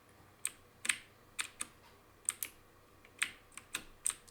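Keyboard arrow keys pressed one at a time while playing a simple platformer game, about a dozen crisp, close clicks at an irregular pace over a faint background hiss.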